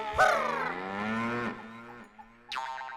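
Buffalo lowing in a village setting, a long loud moo sliding down in pitch over about two seconds, then a short second call starting, close and clear with no talk.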